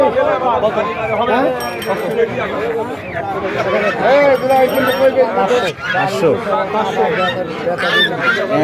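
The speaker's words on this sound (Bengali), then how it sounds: "অনেক হাঁস মুরগি উঠছে হাটে দেখছেন অনেক চিনি হাঁস উঠছে বড় বড় চিনি হাঁস" Ducks and chickens at a busy traditional poultry market in Chatmohar, Pabna, honk and cluck continuously and loudly up close, mixed with dense crowd chatter and people talking.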